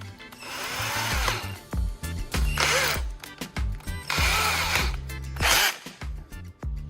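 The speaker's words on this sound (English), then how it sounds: "Secure to the wooden end by drilling a hole to insert the rivet." A power drill bores a hole through a wooden handle end to take a rivet for a homemade welding machine, with close, repeated short bursts and pauses of whirring.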